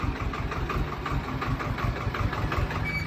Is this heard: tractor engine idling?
yes